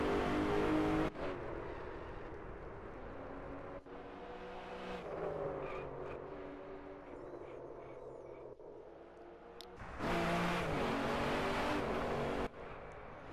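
An Aston Martin Vanquish in the DriveClub video game roars past, its engine note swelling and fading with tire noise, loud and continuous for several seconds.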